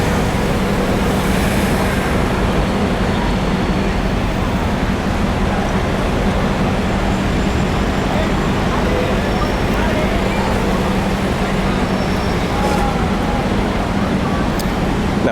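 Steady street traffic at Piccadilly Circus in London, a dense, continuous roadway rumble with engine hum from cars and buses filling the scene, loud and close throughout, with faint voices mixed in.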